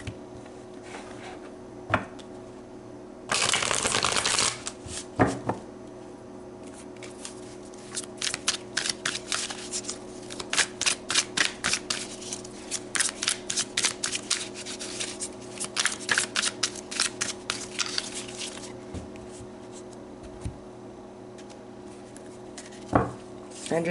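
Tarot card deck being shuffled by hand, a burst of riffling near the start followed by a long stretch of quick, crisp card flicks and slides, close and fairly quiet over a low hum.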